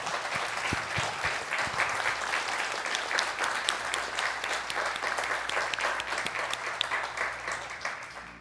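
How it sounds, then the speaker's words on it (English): Sustained audience applause fills a museum presentation hall after an LT6 engine build talk, steady dense clapping from a crowd throughout with no break. "We'll give one final round of applause and we'll wrap up."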